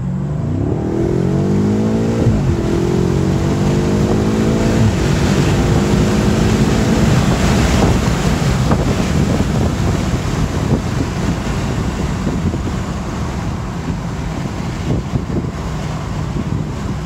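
A 2018 BMW M5 accelerates hard through rising gear pulls, its engine note climbing and shifting, then continues as a loud roar heavily mixed with wind and road noise, heard from inside.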